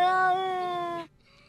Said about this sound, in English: Can you tell what the heck Denny's cat is saying here